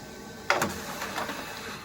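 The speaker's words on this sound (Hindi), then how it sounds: "बहुत बढ़िया, पेपर खींच लिया, ये देखिए" An HP LaserJet M1136 laser printer, repaired after failing to pick up paper, grabbing a sheet: a sudden mechanical clack followed by a soft whirring, rolling feed noise, close and fairly quiet.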